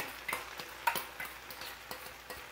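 Chili chicken fries in a pan as a prepared sauce is added and stirred in, making light scraping stirs and soft ticking spatters over a faint sizzle, close but quiet.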